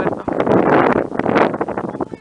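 Strong wind roars across a coastal hilltop near the castle of Begur above the sea, buffeting the microphone with loud, continuous broadband gusts that swell and dip for a couple of seconds.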